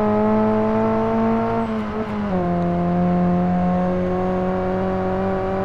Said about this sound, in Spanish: Madre mía, cómo suena el tubo escape.